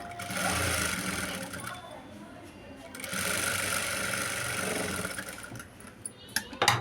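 A sewing machine runs in two steady bursts, stitching the inner edge of a blouse, its fast motor whir continuous and close, ending with a few sharp clicks and knocks as the stitching stops.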